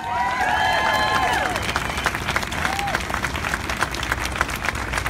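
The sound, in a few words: crowd applause at a march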